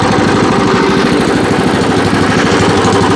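A WEIMA WM900M-3 walk-behind tiller engine runs steadily after starting, a loud, close, continuous mechanical chugging with rapid regular firing pulses and no voices.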